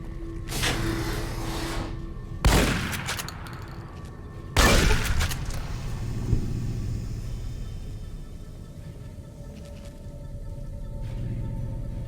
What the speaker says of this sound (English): Wow, this shotgun's pretty effective.